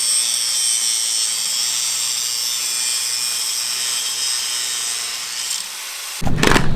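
Steady high-pitched cutting whine of a power tool trimming the leaf spring center bolt on a 2017 Toyota Tacoma, running continuously and loud for about six seconds before stopping abruptly, followed by a short burst of clatter.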